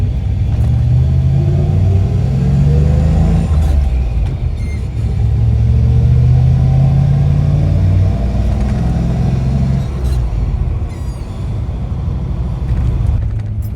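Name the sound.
classic car driving over a railroad track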